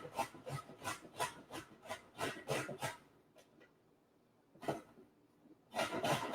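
Beets are rubbed over a grater in quick rhythmic strokes, a burst of rasping scrapes, then a pause with a single stroke, then more grating at the end, close and fairly quiet.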